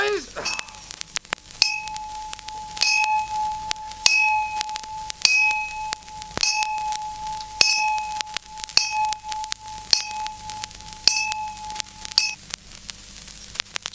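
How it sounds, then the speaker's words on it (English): A school bell rings out, struck roughly once a second, each metallic clang leaving a sustained ringing tone. It is fairly close and continues steadily for about twelve seconds before stopping. "To hear all the bells. You don't often get all the bells these days"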